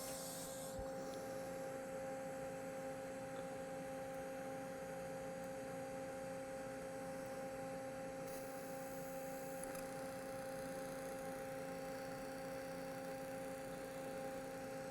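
A steady, unbroken buzzing hiss from an arc welding a socket weld on a pipe, holding an even level for the whole stretch with no voices.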